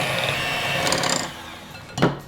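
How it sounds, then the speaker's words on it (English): A handheld electric mixer blends butter and brown sugar for gingerbread cookie dough, giving a close, steady whirring drone that wavers and eases, followed by a short clatter near the end. "we want to go ahead and blend these with a hand mixer"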